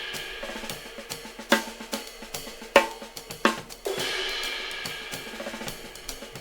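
Overhead microphones on a drum kit heard without stereo widening, with cymbal crashes and sharp snare hits over a busy, quieter groove, the wash of cymbals swelling toward the end.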